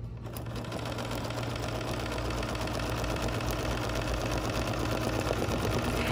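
Embroidery machine stitching out a basting stitch through fabric held on stable stick stabilizer, a steady, fast mechanical whirr with a constant low hum running evenly and loud throughout.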